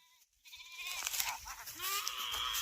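An outdoor goat bleats in repeated wavering cries during hot, dry weather, fairly close over a faint murmur of background noise.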